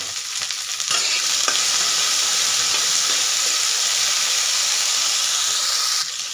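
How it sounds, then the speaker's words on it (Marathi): Okra fries in oil in a pan, giving a constant close, loud sizzling hiss with a few faint clicks of stirring near the start. The sizzle eases slightly at the very end, and no one speaks. "भेंडी ना छान अशी शिजवून घ्यायची तेलामध्ये"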